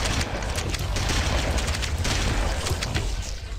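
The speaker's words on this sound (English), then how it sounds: "I was counting on that grenade to go off while I was reloading" Grenade explosion in the Halo Combat Evolved video game, a heavy low boom layered in dense battle noise, with sharp crackling bursts and rumbling lasting several seconds, loud and close.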